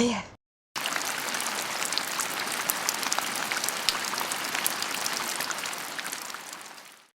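After a brief quiet gap, steady rain begins and pours evenly, a dense constant hiss with scattered drop patters that fades slightly at the end.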